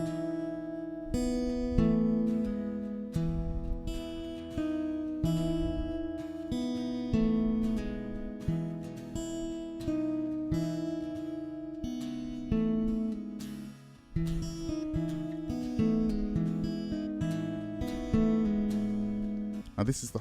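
An acoustic guitar plays the chord progression of a song, strummed and picked steadily at close range, with ringing chords and no voices.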